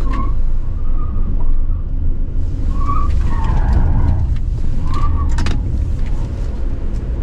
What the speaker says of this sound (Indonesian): Dan kita diminta slalom pakai mobil ini.